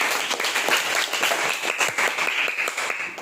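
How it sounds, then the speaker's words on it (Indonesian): Students in a classroom applaud classmates with a brisk, dense round of clapping from many hands that holds steady for a few seconds and sounds close and fairly loud. "berikan tepuk tangan untuk mereka"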